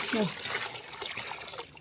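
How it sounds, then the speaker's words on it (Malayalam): Diluted onion-peel water is poured from a bucket in a short, soft trickling splash, with a voice speaking over it. "അര ബക്കറ്റ് വെള്ളം ആക്കിയിട്ട് ഒഴിച്ച് കൊടുത്തിട്ടാണ് ഞാനിപ്പോൾ ഒഴിച്ച് കൊടുക്കുന്നത്"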